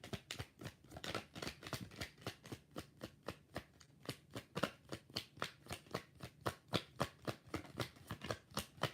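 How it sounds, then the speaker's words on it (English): Tarot cards shuffled by hand in a steady run of quick, crisp riffling flicks, repeating roughly every third of a second, close and fairly quiet with no talking. "One more shuffle."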